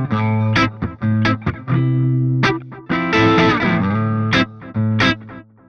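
A PRS electric guitar rings through heavy distortion, with chugging rhythmic chords and sustained notes broken by short gaps and sharp picked attacks. Loud and close.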